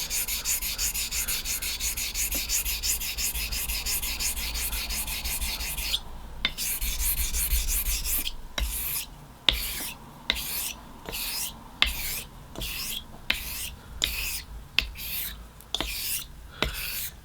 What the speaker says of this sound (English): it's just a pleasure to hone this razor